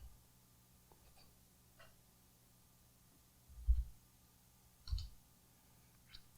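A computer mouse right-click and an Enter key press, a few quiet, sparse clicks and thumps against a faint low hum.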